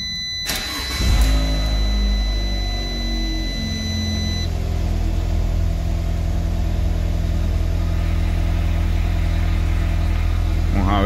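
A car engine is started cold in the morning: a short crank catches, then the engine settles into a steady, fairly loud idle that runs on alone, with a faint high whine fading out early.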